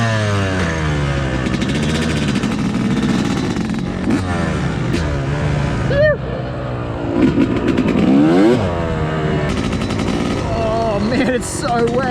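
A cold vehicle engine idles roughly and unevenly on a wet spring day at Gap Creek, a steady loud throbbing with an irregular pulse that runs throughout, with brief sharper knocks breaking through now and then.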